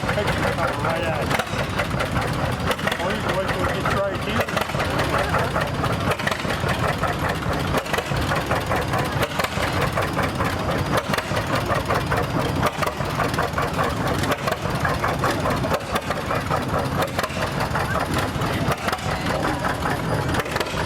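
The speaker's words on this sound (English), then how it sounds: "This is a 1932 John Deere GPO." A 1932 John Deere GPO antique tractor runs its engine in a tractor show parade, with a loud, steady stream of rhythmic putting pulses while an announcer talks over it.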